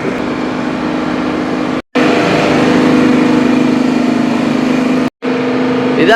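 Thailand night train diesel locomotive idling at a station, a steady droning hum with a sustained mid tone, close and continuous with two brief cuts.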